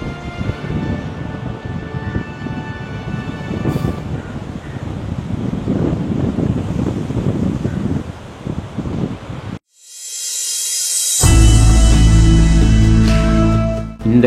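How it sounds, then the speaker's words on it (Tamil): Strong wind buffets the microphone at a seaside fort on the Kanyakumari coast, a loud continuous roar that cuts out briefly and then returns even harsher and steadier. "காத்து பயங்கரமா இருக்குது."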